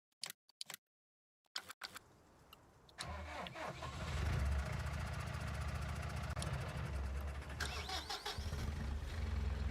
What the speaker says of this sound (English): Different engine sounds.